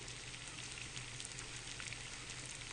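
Constant bubbling and crackling hiss of water at a rolling boil in a pot, steady and close, with a low hum underneath and no voices.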